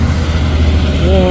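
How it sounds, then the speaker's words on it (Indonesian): A trailer truck, one of three truck-trailer units, drives past on a hill road with a low engine drone, loud and close, as someone talks over it. "Oh, 3 unit truk trailer."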